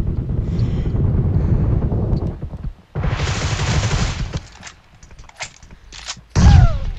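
Groza rifle fire in PUBG Mobile rattles in rapid automatic bursts, with a short pause between volleys and a final loud burst near the end, amid wind-like game noise.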